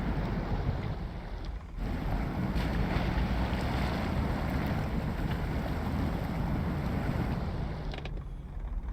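A modded 2021 Toyota Tacoma TRD Pro with a snorkel ploughs through water in SnowRunner, giving a continuous loud splashing rush over engine drone, with a brief dip and no talking.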